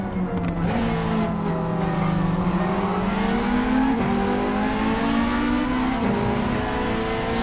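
A race car engine revs hard in a Gran Turismo 7 VR race. Its pitch climbs steadily through the gears in a loud, continuous whine with brief dips at the shifts.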